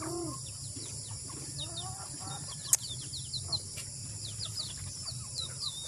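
Chickens cluck and chirp softly in the background, scattered short calls over a low outdoor hum, with one sharp click partway through.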